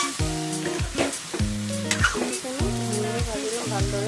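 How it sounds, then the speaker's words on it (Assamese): Jackfruit cooks with jaggery in a hot pan, sizzling continuously as rhythmic stirring strokes scrape and clank every half second or so, loud and close. "ইয়াকো ভালদৰে ভাজিম"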